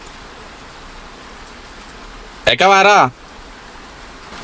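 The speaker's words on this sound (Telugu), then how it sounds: "వర్షంలో తడుస్తున్నాం" Steady rain falling outdoors makes a constant soft hiss throughout, and a person briefly speaks over it midway.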